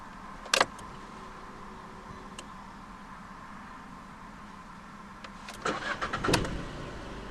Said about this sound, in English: to start, put your foot on the clutch, insert the key into the slot right here, and twist it like you would in a normal car.